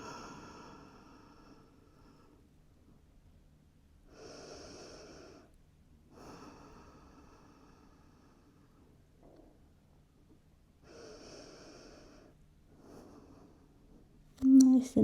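Slow deep breaths during a yoga child's pose, a few long airy inhales and exhales spaced several seconds apart with quiet gaps, close and soft, ending with a brief louder bump.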